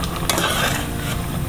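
A spoon stirs opor ayam in a cooking pot, giving a short, close scrape and clink over a steady simmering hiss that lasts just over a second.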